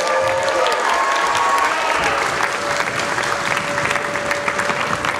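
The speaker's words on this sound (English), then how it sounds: "Can we give them a round of applause, please?" Audience at a school choir's Broadway night in a community center breaks into steady, full applause, a dense continuous wash of many hands with a few cheers mixed in.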